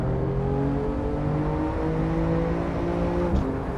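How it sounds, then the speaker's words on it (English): A BMW M4 race car on a hot lap in Assetto Corsa: a steady, loud, high-revving engine drone holds throughout with little change and no talk. "through the final corner, on to our hot lap here in the BMW M4"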